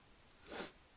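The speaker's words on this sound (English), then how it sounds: "So that's where the sniffles are coming from today." A single short sniff from a person with hay fever, a quick breathy burst rising and fading within a second against quiet background.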